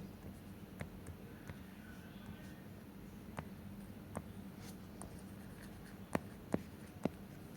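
Writing on a board during a chemistry lesson: faint, sparse taps and scratches of the writing tool over a quiet room hum, with a few sharper knocks near the end.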